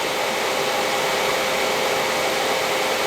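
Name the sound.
laptop cooling stand fans at maximum speed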